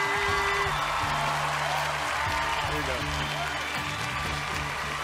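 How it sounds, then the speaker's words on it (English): A television singing-competition audience applauds for a contestant after a battle round, sustained clapping and crowd noise under a host's voice and background music throughout. "Big applause for Ricky!"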